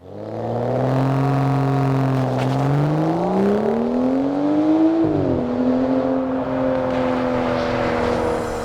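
A BMW F10 N55 engine with a deleted muffler and resonator revs up and settles back, its loud raspy exhaust note rising and falling in pitch close by.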